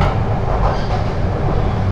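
Aboard Bangladesh's non-stop Suborno Express, a loud, even rumble of the moving train fills the carriage without a break, with no voices.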